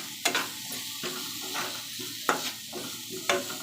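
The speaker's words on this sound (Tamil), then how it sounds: "நல்லா இந்த கேப்சிகம் வந்து நல்லா கொஞ்சம் நல்லா வதங்கட்டும்" Capsicum sautéing in a pan, a close crackling sizzle broken by repeated spoon strokes that scrape and tap against the pan in an uneven rhythm.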